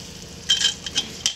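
A half-kilo leg of mutton raan lowered into a kadhai of masala, giving a few short, close sizzling bursts and faint scraping against a low, steady background hiss.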